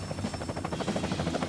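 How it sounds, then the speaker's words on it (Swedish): Helicopter arriving with a delivery in the LEGO The Incredibles video game: a steady, fast rotor chop pulses evenly throughout, moderately loud with no voices over it. "här kommer ju helikoptern med lite leverans"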